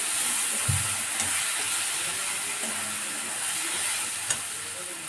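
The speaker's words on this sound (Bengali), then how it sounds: "এবার এটা কষিয়ে নিচ্ছি।" Chicken and potato pieces with turmeric and spices sauté in hot oil, giving a steady close sizzle broken by a few soft stirring scrapes, with no talking.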